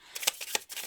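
A pocket-sized tarot card deck being shuffled by hand, giving a couple of quick, close riffling swishes in under a second.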